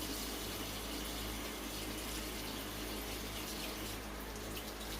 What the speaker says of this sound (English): Let me wash my gloves off first.